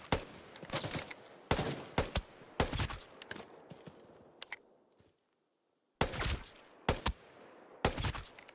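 Submachine gun fire in a shooter game, sharp bursts of rapid shots in clusters with brief pauses and a full second of silence midway, near and loud, no talk.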